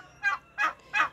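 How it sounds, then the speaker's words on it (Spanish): A young turkey, new to a henhouse, gobbles three times in a quick even rhythm, close and clear with no one talking over it. "Pero sé que va a ser un buen guajolote."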